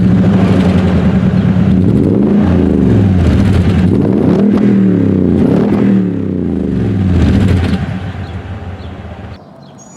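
A 2021 Toyota Tundra pickup with a TRD exhaust system revs loudly and repeatedly with a deep exhaust rumble, rising and falling for several seconds before easing to a quieter idle near the end.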